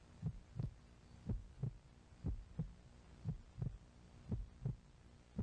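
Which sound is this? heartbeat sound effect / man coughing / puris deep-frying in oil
heartbeat sound effect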